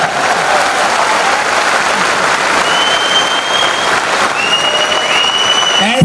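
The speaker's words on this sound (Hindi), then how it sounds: "तालियां बजा सकते हैं आप?" Sustained, dense applause from an audience at a motivational business talk about partners and a downline, loud and steady for about six seconds with a few thin whistle-like tones riding over the clapping.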